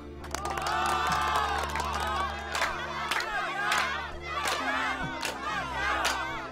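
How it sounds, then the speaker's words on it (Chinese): A large crowd of townspeople cheers and shouts loudly and continuously, with repeated whoops and sharp claps over a steady roar. "这些欢呼声啊，都是你应该得到的"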